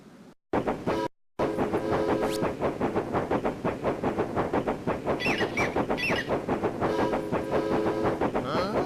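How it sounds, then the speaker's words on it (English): A train arrives in the video game 3 Skulls of the Toltecs, a loud, continuous rumble with a rhythmic clatter and a brief whistle-like tone partway through, cutting in after a short gap at the start. "Here comes the train."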